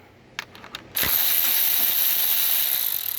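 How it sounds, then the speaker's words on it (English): A ratchet works loose the 12mm screws holding a 2006 Toyota RAV4 V6 AC condenser, a few quick close clicks followed by a loud, steady hissing whir that fills the rest of the moment. "we're going to remove these two 12mm screws"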